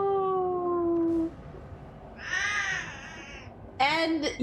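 A domestic cat meows with long drawn-out calls, first a steady tonal cry, then a wavering mid-length meow and a short sharp one at the end, heard close and fairly loud.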